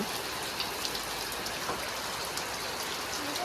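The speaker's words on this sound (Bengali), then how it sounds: "খালি বৃষ্টি হচ্ছে, কি বৃষ্টি" Steady, even rainfall hisses continuously, with scattered drops pattering on a surface nearby; no voices are heard.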